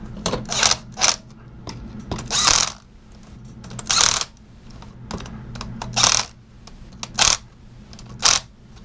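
A ratchet wrench tightens bolts on a monkey bike, giving bursts of rapid metallic clicking interspersed with clinks and handling noises, close and fairly loud with pauses between bursts.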